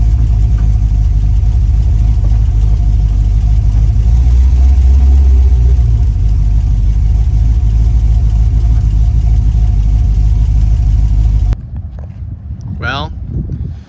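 A loud, deep Ford Falcon hot rod drag car engine with a new camshaft and cylinder heads rumbles steadily for a long stretch, then cuts off abruptly into quieter background noise with a rising whine.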